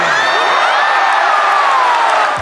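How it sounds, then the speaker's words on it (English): A sumo audience in a Tokyo stadium cheers loudly and continuously, with high whoops and shouts rising over a dense, steady roar of the crowd. "there's enough action and cheering from the audience to keep things interesting"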